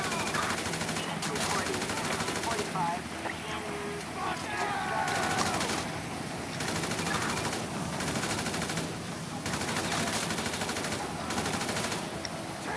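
Gunfire in the video game Grand Theft Auto V, with rapid bursts of shots repeating across the clip amid dense in-game noise.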